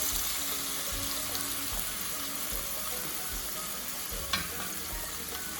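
Egg cooking in a pan with bitter gourd and shrimp, giving a steady soft sizzle throughout with a faint clink near the end, fairly quiet and with no talking.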